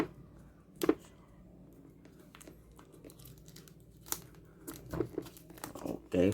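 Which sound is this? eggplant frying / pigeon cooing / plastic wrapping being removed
plastic wrapping being removed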